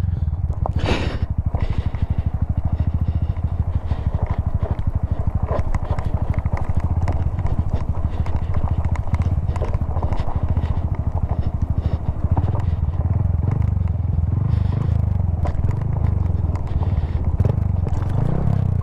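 A Honda Grom motorcycle rides downhill on an off-road trail, its close engine drone running under constant rattling, clattering and scraping of tires and chassis over rough ground, with no talking.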